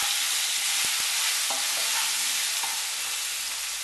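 Pumpkin pieces frying lightly with curry leaves in a pan, giving a steady, loud broadband sizzle that runs throughout, with a few faint scrapes and clinks of stirring.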